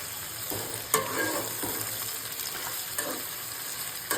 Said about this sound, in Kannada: ಅವು ಆಗೋವರೆಗೂ ಚೆನ್ನಾಗಿ ಫ್ರೈ ಮಾಡಬೇಕು.